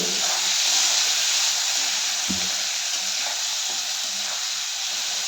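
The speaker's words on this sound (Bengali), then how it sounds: "পেঁয়াজ কুচিটা সুন্দর করে ভাজতে হবে লাল লাল করে" Chopped onions fry in a pan for a home-style goat meat curry, a steady close sizzle and hiss running throughout with a faint clink of stirring midway.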